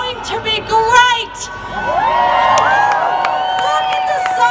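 A large crowd at an outdoor rally in Melbourne cheers and whoops, with high shouts and screams rising over a steady roar that swells and holds loud throughout.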